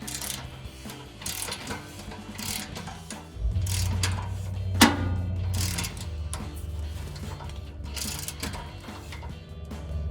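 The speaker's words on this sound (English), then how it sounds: "I'm gonna put my 15 millimeter wrench on and my torque wrench, and we're gonna torque them both to 45 foot-pounds" Torque wrench and 15 mm wrench tightening exhaust bolts to 45 foot-pounds on a 2011-2020 Ford F-150 during a resonator delete, with irregular mechanical clicks and ratcheting over a steady low hum and one sharp click near the middle.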